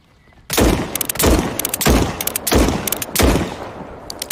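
A heavy one-shot-kill firearm is fired in an SCP 5k weapon demo: five loud, close gunshots in a steady rhythm roughly two-thirds of a second apart, each with a sharp crack and short echoing tail.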